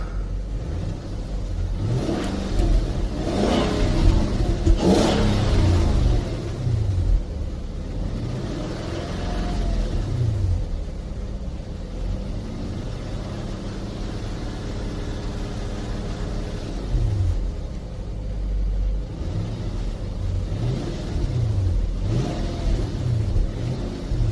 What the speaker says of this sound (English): I'm gonna give it a few revs because nothing's coming out.